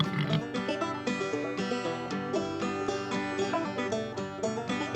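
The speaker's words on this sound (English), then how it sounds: "Pig." A farm pig oinks in a run of close, clear grunts with a nasal, rhythmic quality that carries through the whole moment.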